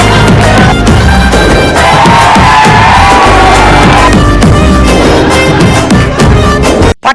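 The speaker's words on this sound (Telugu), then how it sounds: "ఒకసారి మీ గట్టిగా చప్పట్లు కొట్టాలి" A studio audience at a Telugu TV comedy show claps and cheers loudly and steadily for several seconds, a dense wash of applause with whoops, ending abruptly.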